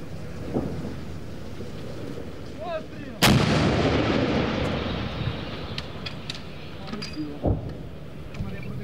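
Ukrainian artillery gun firing near Bakhmut on the frontline: one loud, sharp blast with a long rolling echo that fades over several seconds, amid outdoor ambience, a second softer thump later and a voice.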